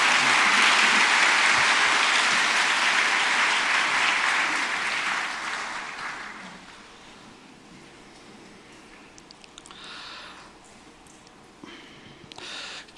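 A church congregation applauds to welcome a pastor at a late-night Holy Week worship service. The clapping is loud, dense and sustained for about six seconds, then thins out and fades into a quieter room with a few scattered sounds.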